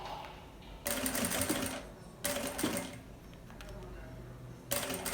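A sewing machine topstitching a backpack runs in three bursts of rapid clattering stitching, close and fairly loud, with short quiet pauses between runs.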